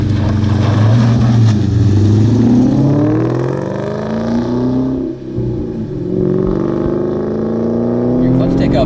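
A 2003 Cobra track car with an aftermarket McLeod clutch drives on the road, its engine droning loud and close with rising and falling revs, while people talk over it.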